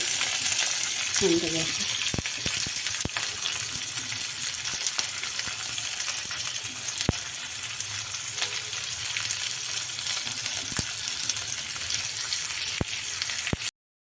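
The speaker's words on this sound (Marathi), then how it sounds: "आता आपलं तेल तापलेलं आहे आपण मिरची तळून घेऊ" Green chillies frying in hot oil give a dense, continuous close sizzle with a few sharp clicks of a utensil, steady and loud throughout, with no talking.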